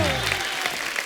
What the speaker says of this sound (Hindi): ओए ठोको ताली ठोको